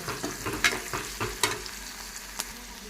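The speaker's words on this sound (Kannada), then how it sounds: "ಸ್ವಲ್ಪ ಸಾಸಿವೆ ಜೀರಿಗೆ ಆಮೇಲೆ ಉಳ್ಳಾಗಡ್ಡಿ ಮತ್ತು ಟೊಮೆಟೊ ಹಾಕೊಂಡು ಫ್ರೈ ಮಾಡ್ಕೊಳತ್ತೀನಿ ನೋಡ್ರಿ" Mustard seeds, cumin, onion and tomato fry in hot oil, a steady close sizzle broken by repeated scraping stirs and sharp crackles, with no voices.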